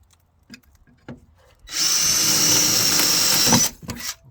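A power drill bores into the aluminum wall of a camper, a steady high whine lasting about two seconds after a few light clicks and taps, then stopping abruptly.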